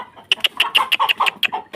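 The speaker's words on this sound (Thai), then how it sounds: "ได้ยินเสียงไก่ร้องหมากัดไก่" Chickens squawk and cluck in a rapid, agitated series of about ten sharp calls, close and loud, at a farmyard in the early hours of the night while dogs attack them.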